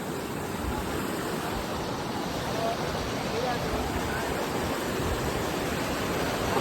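Rushing water at Dhodani waterfall in the rain, a dense continuous roar close by, with no clear speech over it.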